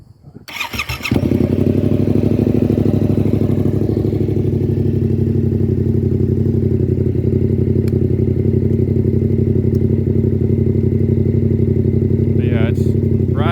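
A motorcycle fitted with a KO Lightning exhaust starts with a clatter and settles into a loud, steady, close idle. Someone speaks briefly near the end.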